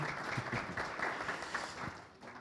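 Audience applause at the IKI CAC 2023 meeting, brief and fairly quiet. Scattered clapping stays low in level and fades slightly toward the end, with no voices over it.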